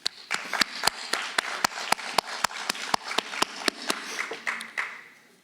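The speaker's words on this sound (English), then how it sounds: "Please give yourselves a great big round of applause for everything you have achieved." Graduating seniors at a school awards ceremony receive a round of applause: a small group clapping in steady, evenly spaced sharp claps, fairly quiet and close, fading out at the end.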